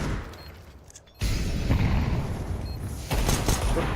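A grenade lobbed during a professional Counter-Strike match between Endpoint and 9INE lands with a sudden loud burst, followed by rumbling gunfire-like bangs and a second sharp hit near the end, with no talk.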